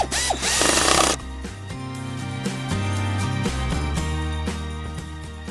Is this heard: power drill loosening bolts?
yes